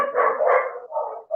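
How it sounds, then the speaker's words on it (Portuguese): Several dogs barking and yipping nearby in a home, a run of loud, close barks in quick bursts with a brief gap before a final bark. "Aí meus cachorros vão ficar atormentando aqui"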